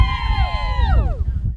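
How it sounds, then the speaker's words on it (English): A crowd cheers and whoops for riders finishing the Cummins Trek, a 250-kilometre charity ride for mental health. The voices form one short, lively burst that rises and then trails off over a low rumble. "A final cheer to end the journey"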